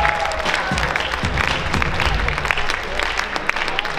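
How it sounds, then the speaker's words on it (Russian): An audience at a ballroom dance championship in Minsk applauds a competing dance couple, with steady clapping and some crowd cheering, while an announcer's voice carries over it. "Приветствуем, аплодируем паре номер 4."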